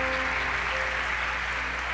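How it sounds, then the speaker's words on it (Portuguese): Steady, dense applause from an audience welcoming a doctor onto the stage at a health talk, an even wash of clapping held for the whole two seconds with no break. "vamos receber a nossa doutora com uma salva de palmas"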